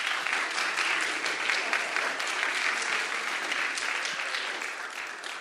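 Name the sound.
audience applause at event stage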